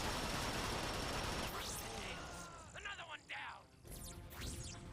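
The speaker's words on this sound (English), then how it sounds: "Boy, that gun's pretty good." Rapid gunfire from a weapon in Transformers: Rise of the Dark Spark, loud bursts of shots with mechanical clanks and impacts, tapering into scattered blasts and whooshes.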